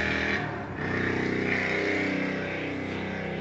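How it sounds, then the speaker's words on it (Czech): A motorcycle engine revs and buzzes close by, with a brief dip in the first second, then a sustained passing drone. "Motorka."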